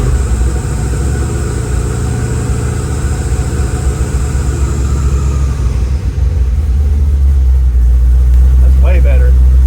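A car engine runs steadily with its throttle blade held wide open, a loud continuous rumble that drops to a deeper, heavier drone partway through, with a brief higher sound near the end.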